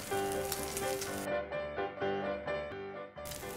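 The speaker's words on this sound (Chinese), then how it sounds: "这一面要大概煎5分钟左右。" A cabbage and wheat-noodle pancake bound with egg fries in a pan, giving a steady close sizzle with bubbly crackle throughout. Faint background music runs underneath.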